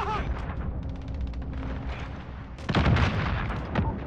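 Rapid gunfire and booming explosions from a military shooter video game, loud and dense, with a heavy burst of blasts near the end and game voice lines mixed in.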